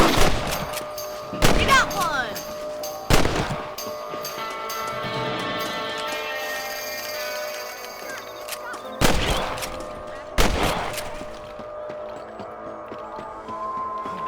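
Rifle gunfire in the Western video game Red Dead Redemption: four sharp, loud shots spaced irregularly across the span, each with a booming tail, over a steady bed of game music and ambience, with no talk.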